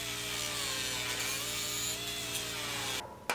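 A loud, continuous grinder whine with a rough, gritty edge, grinding metal welds on a wrecked trailer, runs steadily and then cuts off abruptly near the end.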